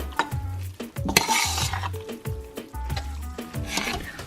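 Japchae noodles with vegetables mixed together in a pan, heard as repeated close scraping and clinking of utensil against cookware over a light sizzle, in an irregular stirring rhythm.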